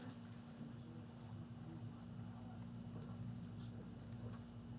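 Pen scratching on paper as notes are taken during a math lesson, a faint, steady scribbling under a constant low electrical hum.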